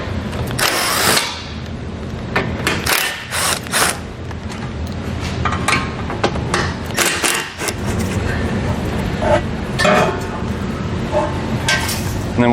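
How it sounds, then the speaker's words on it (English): Hand tools work the bumper beam bolts on a 2019 Volkswagen Passat during a trailer hitch install, giving repeated metallic clinks, ratcheting and sharp clanks at close range over steady background noise. "We're going to remove the 3 bolts on each end of a bumper beam."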